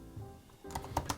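Quick computer-keyboard typing while formatting a page in the Notion app: a short burst of four or five crisp, close keystrokes after a quiet pause, with no talk.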